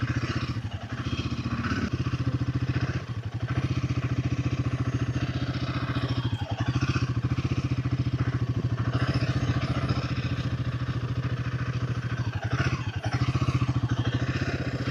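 A Royal Enfield Himalayan 450 motorcycle rolls through a slow, gently leaning U-turn, its engine holding a steady, close mid-pitched drone for the whole stretch with slight throttle swells and no talk.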